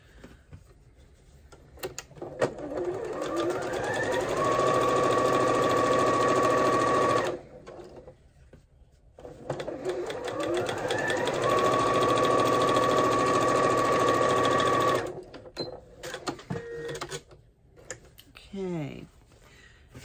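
A domestic sewing machine runs in two sustained bursts of steady whirring as it stitches chevron quilt blocks together along the matched center seam, with brief pauses and some handling noise near the end.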